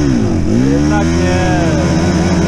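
Hard enduro dirt bike at a Romanian training session revving hard, its engine pitch sweeping up and down as the rear tire spins, loud and close throughout.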